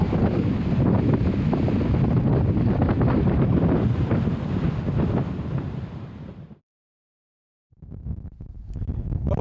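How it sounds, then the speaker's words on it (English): Strong, steady wind buffets the microphone during a bike tour in the Australian Alps, a loud continuous roar that drops out to silence for about a second before gusting back. "you're probably not going to hear this very well because it's so windy"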